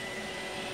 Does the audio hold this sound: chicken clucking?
no